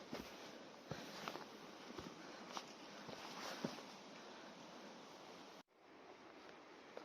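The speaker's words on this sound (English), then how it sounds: "the sound of running water has got louder, and Oti's little ears have pricked up" A moorland stream on Dartmoor rushes softly in the distance as a faint, continuous flow broken by a few light knocks, then briefly cuts out before resuming.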